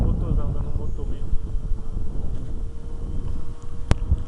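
A 1.40 m Top Fly model airplane drones with its engine running while flying in strong wind, the motor buried under heavy rumbling wind buffeting on the microphone, with one sharp click near the end.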